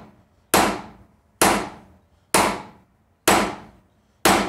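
A sledgehammer strikes a cold chisel to cut metal, five loud sharp metallic blows close by at an even pace, each ringing briefly and fading before the next, with no talk.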